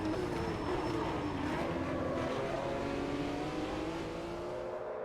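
A 1980s race car engine in the Automobilista 2 racing game drones loudly and steadily throughout, its pitch sweeping slowly upward as the car accelerates, with no voices over it.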